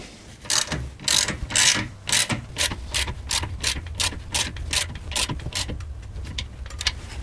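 A torque wrench clicks and ratchets while tightening a rear axle bolt on a Renault Rodius, giving a steady series of sharp, close metallic clicks in bursts, with no talking.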